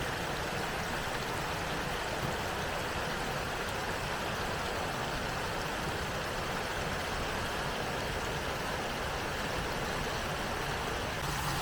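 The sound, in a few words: mill stream babbling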